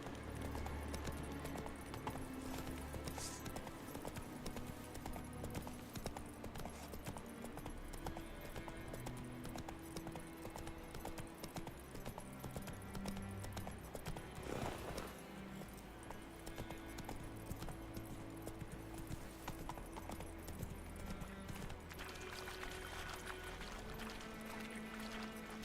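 A horse gallops in The Witcher 3 video game, a quiet, steady clip-clop of hooves in continuous rhythm under other faint game sounds.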